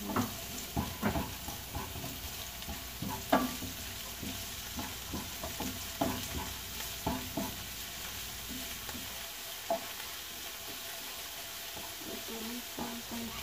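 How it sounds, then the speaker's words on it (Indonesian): Shallots and garlic stir-fry in a pan with a steady sizzle, broken by repeated clinks and scrapes of a spatula, close and continuous. "Masuk ditumis lagi ya teman-teman."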